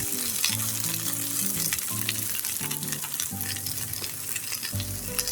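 Shredded meat bharta frying in a pan while being stirred, a continuous loud sizzle broken by repeated scraping strokes of the spatula every second or so, close up with no speech.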